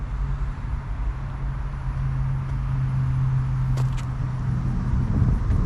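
A Ford S650 Mustang GT engine with manual transmission and non-active exhaust hums steadily and then builds into a louder, droning rev, heard from nearby with constant road noise underneath.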